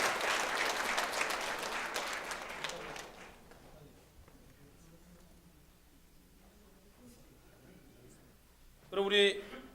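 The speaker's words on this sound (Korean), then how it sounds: "우리 다 같이 우리 모두에게 이렇게 박수로 우리 축하해 주겠습니다." A church congregation claps together during a Sunday afternoon worship service, with dense, loud applause for about three seconds that then fades into quiet room murmur, followed by a brief voice near the end.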